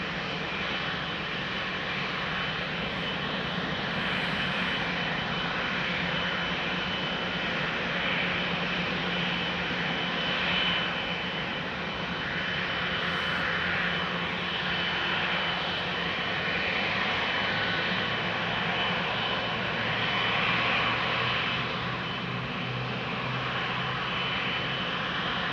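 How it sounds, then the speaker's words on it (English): An Embraer 190 jet lines up on the runway at Amsterdam Schiphol Airport, its engines producing a steady, moderately loud broadband roar that holds without a break. "Embraer 190 to Frankfurt, lining up."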